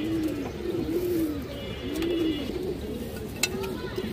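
Silver line pigeons coo softly in a loft, a series of repeated rolling coos in a steady rhythm, fairly faint and close, with a few light clicks behind.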